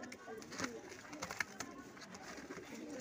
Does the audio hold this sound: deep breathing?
no